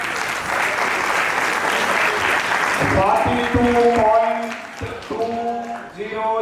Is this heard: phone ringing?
no